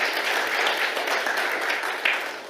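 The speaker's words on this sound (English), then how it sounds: "So clap for us, please." Audience clapping at a signing ceremony for a co-investment partnership in Kenya, a moderate, steady patter of many hands that fades slightly toward the end.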